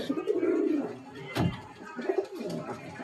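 Low rolling coos from pigeons in a Kolkata bloodline loft, a few close, moderately loud calls with brief pauses between them and faint background noise.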